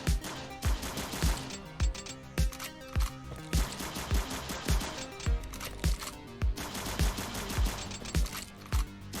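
Gunfire in the horror video game Horns of Fear, with loud shots at a steady rhythm of roughly one every half second to second, over a dense bed of game music and ambience, with no talk.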